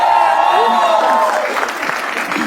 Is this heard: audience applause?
yes